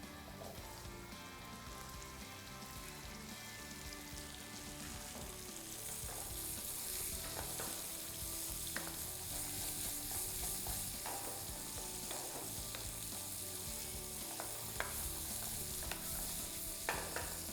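Pumpkin pieces frying and sizzling in a pan for soup, stirred now and then, a steady close crackle that grows denser and louder partway through, with occasional scrapes and clinks and no talking.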